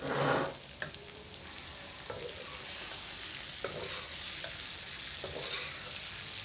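Pre-fried okra stirred into onion masala in a pan, a spoon scraping and clicking against the metal at intervals over a continuous soft sizzle, close and fairly quiet, no talking.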